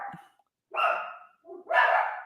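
A dog barks twice, close and loud, in a quiet room, the two sharp barks separated by a short pause.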